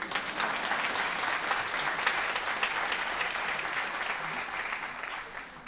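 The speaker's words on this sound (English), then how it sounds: "You can clap." Audience clapping at an art museum event, a dense, even round of applause holding steady for several seconds before easing slightly, moderately loud and unaccompanied by talk.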